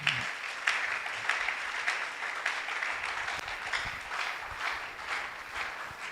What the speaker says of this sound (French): Est-ce que tu donnes une offrande d'acclamation ce soir?